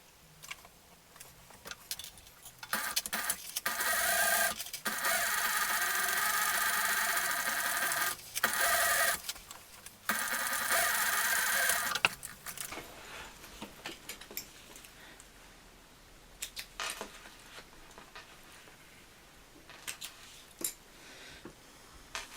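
A sewing machine stitches around the edge of a crossbody bag in a steady run of mechanical ticking. It stops and restarts a few times, then gives way to quieter handling noises.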